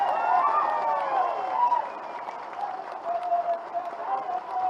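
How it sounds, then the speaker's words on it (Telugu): A crowd at a political rally applauds, with clapping and raised voices mixed together in a steady, dense wash that lasts the whole stretch. "ఒకసారి గట్టిగా చప్పట్లతో వారికి మనందరం అభినందనలు చెప్పాలి."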